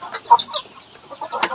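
Chickens clucking in a rural Lao farmyard, several short close squawks and clucks in irregular bursts, with no talk.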